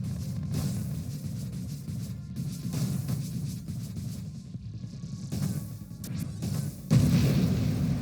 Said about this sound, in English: Units, do you mind exploding for me?